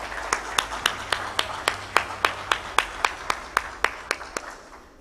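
Spaced, rhythmic claps ring out at a business summit in Islamabad, about twenty sharp hits in a steady beat, fairly close and alone.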